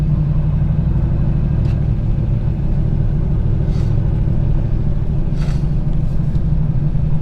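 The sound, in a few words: manual car driving off in first gear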